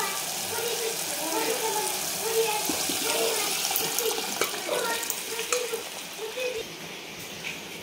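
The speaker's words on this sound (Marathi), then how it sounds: "थोडंसं आपल्याला पाणी टाकून घ्यायचं" Water pours and sloshes into a pot of mashed dal amid gentle stirring and kitchen clatter, with soft background noise throughout.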